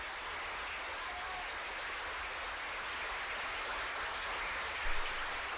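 A crowd applauds at an Orlando Pride event, a steady, dense wash of clapping heard from a distance at moderate level, with a slight swell near the end.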